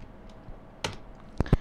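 A few sparse, close-up clicks of typing on a computer keyboard, roughly three distinct keystrokes near the end against a quiet background.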